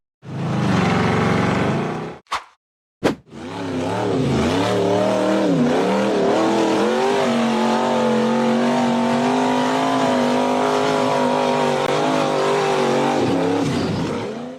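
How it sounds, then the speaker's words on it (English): A blue off-road buggy's engine roars loudly and steadily as it charges up a muddy, rocky forest dirt slope, with revs rising and falling over a sustained drone after a brief burst and short gaps. "The blue buggy reared straight up as it charged up the dirt slope, flipped backward, and ended up upside down"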